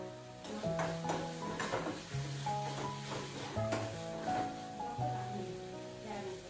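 Spices stirred in a pan over a low flame for a sprouted moth bean curry, with repeated close scraping and clinking strokes over a faint continuous sizzle, no talk.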